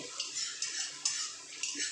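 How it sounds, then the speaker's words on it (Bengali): Onion is stirred in a pan over a high gas flame, a utensil scraping the pan in repeated strokes about every half second over a soft, continuous frying hiss. "পেঁয়াজটা একটু ভাজা ভাজা হোক তারপর আমি মশলাগুলো দেবো"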